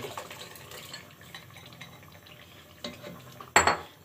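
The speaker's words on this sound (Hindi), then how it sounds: "अब हम ये मसाला डाल देंगे।" Ground masala paste, mixed with a cup of water, goes into a pan of softened tomatoes for chicken phall. There is light clinking and stirring, then one louder scrape or splash near the end.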